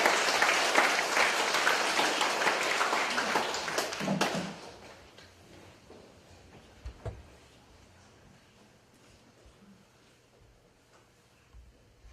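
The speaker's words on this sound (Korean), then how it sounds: "큰 박수 부탁드리겠습니다." A church congregation applauding, dense clapping that fills the first four seconds and then stops abruptly, followed by quiet room tone with a few scattered taps and shuffles.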